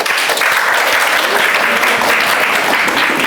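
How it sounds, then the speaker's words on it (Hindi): A roomful of chemistry students claps on request in a classroom, producing a loud, continuous, even patter of applause from start to finish. "वेरी गुड, ताली बजा दीजिए"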